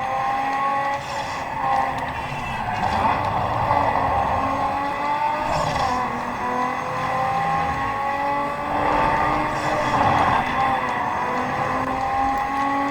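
A car driven in the video game Need for Speed Underground 2 in open-world free roam, its engine droning loudly and continuously with rising and falling revs and occasional tire squeal, with no talking.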